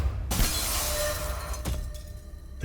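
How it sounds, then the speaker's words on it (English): A stained glass window shatters in one loud crash, followed by a sustained shower of breaking, tinkling colorful glass that cuts off abruptly, then a second smaller burst of debris. "A shower of shattered, colorful glass rained down as it crashed through the stained glass"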